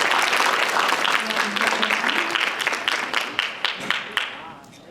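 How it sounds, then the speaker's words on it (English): An audience at a youth mental wellness teen chat event in Albany, Georgia applauds the panelists with dense, steady clapping that thins into scattered individual claps before fading, with some voices mixed in. "give a big round of applause for our panelists"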